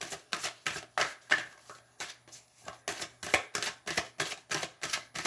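Tarot cards drawn one after another from a deck: a steady run of about a dozen crisp, evenly spaced card slaps and flicks, close and clear, with no voices.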